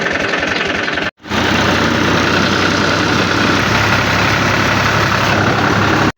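A tractor engine idles loudly and close by, a dense, steady rumble that cuts out for a moment near the start and then runs on unbroken.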